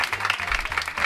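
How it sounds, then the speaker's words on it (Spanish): A studio audience at a Spanish comedy show breaks into brief, dense applause, a short burst of steady clapping that fills the room. "Un aplauso."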